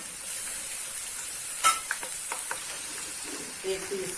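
Freshly ground ginger garlic paste hits hot oil in a pan for Kabuli pulao and sizzles with a steady hiss, while a few sharp spoon knocks and stirring scrapes stand out partway through.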